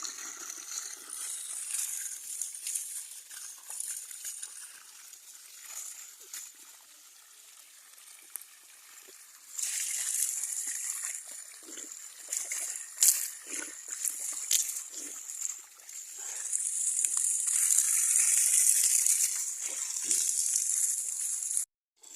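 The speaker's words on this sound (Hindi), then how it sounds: "पानी जो है एक्सचेंज कर देते हैं, दूसरा पानी इसमें डाल देते हैं" Water splashes and trickles as fresh water is poured into a drinking bowl in a home garden, with liquid swells rising through the second half against faint background noise.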